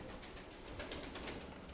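Pigeons kept by a pigeon fancier coo softly over a steady, hissy background, with a continuous low murmur running through the short stretch.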